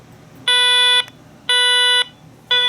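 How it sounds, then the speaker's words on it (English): A tone generator sounds a test tone in loud, harmonically rich beeps, each about half a second long with equal gaps between them, three bursts in all and no talking. "You tell it's generating that tone."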